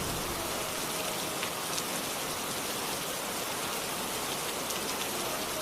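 Steady rain falls in a village lane in a cartoon story, a dense, even hiss of drops on surfaces that holds unbroken and fairly loud throughout, with no voices.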